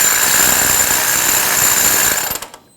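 Tie rod sleeve bolts on a 2000-2005 Ford Excursion being tightened with a power tool, a loud continuous buzzing rattle close up that winds down and stops near the end, no talking.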